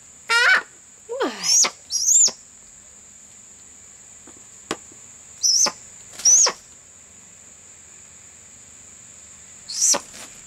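An Augur Buzzard, a captive bird native to Africa, gives several loud, sharp, high calls in short bursts spaced across a quiet setting, with a few rougher squawks early on.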